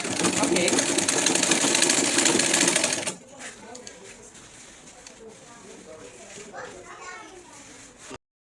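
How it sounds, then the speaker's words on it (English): A sewing machine stitches fabric for an auto gele in a loud, steady whir for about three seconds, then stops, leaving quieter room sounds with faint voices in the background. "So you sew from one end to the other end of the fabric."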